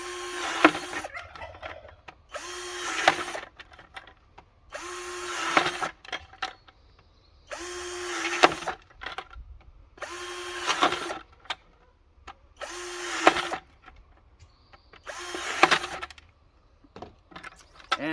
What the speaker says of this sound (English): I have a 1/2-inch drill bit on here